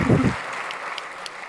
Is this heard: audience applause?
yes